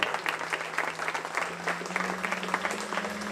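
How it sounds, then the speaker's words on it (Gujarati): Audience applause at a Jain diksha farewell ceremony, a dense, steady patter of many hands clapping from a crowd, moderately distant and sustained throughout. "આ વિનાશ અને એમની ઉત્તમતાને જોરદાર તાળીઓના ગડગડાટથી વધાવી દઈએ"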